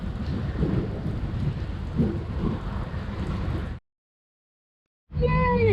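Steady heavy rain in Texas hisses with low rumbling thunder underneath, cuts out briefly to silence, then resumes.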